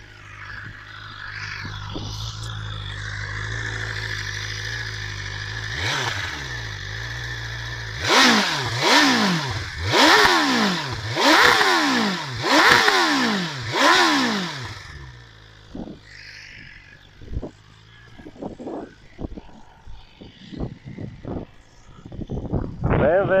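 A 2019 BMW S 1000 RR sport motorcycle in neutral starts and idles, then gives a run of sharp, rising throttle blips, each revving high and dropping back, close and loud, ending in lighter irregular revs.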